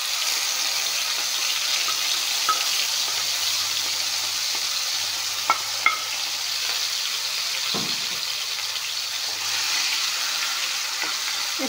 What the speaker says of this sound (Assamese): অলপমান ভাজি ল'ম। যাতে মাংসখিনি ভালদৰে ভজা যায়।